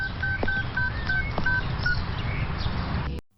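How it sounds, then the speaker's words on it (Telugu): Telephone dialing tones from a call placed on speakerphone in a Telugu movie scene: a quick series of short, clear beeps in steady rhythm, close and alone, ending in an abrupt cutoff. "నేను ఇప్పుడే వర్షకు ఫోన్ చేస్తాను, స్పీకర్లో పెడతాను, మీరు వినండి."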